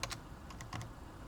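Computer keyboard keys tapped in a few quick separate clicks, close and clear, with short pauses between strokes in a quiet room.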